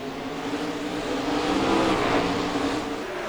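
Race cars in a Can-Am heat race at Riverside produce a continuous, blended engine roar at mid distance that swells slightly midway, with no talking.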